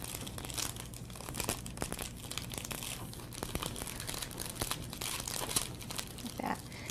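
Sheets of metallic wrapping paper are fanned back and forth and creased for a gift bow, giving a steady run of close crinkling and crackling with sharp crunchy snaps throughout.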